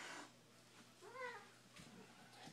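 A cat gives one short, fairly faint meow indoors over a low electrical hum, with a few soft rustles and knocks around it.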